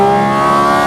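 A Porsche 911 GT4 RS Weissach flat-six screams at a sustained 8,000 RPM, a loud, steady high-pitched wail heard from inside the cabin, with no voices.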